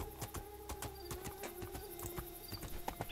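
Horse hooves clip-clop in the video game Two Worlds 2, a quick, fairly steady run of short taps over a constant background hum, moderately loud and with no talking.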